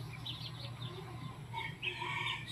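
A six-month-old Lemon Sweater bloodline chicken clucks softly a few times over a steady low hum, the calls faint and close with no one speaking.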